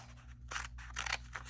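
Scissors cutting through folded paper for a pop-out craft, a few quick crisp snips in a row, close and fairly quiet over a low steady hum.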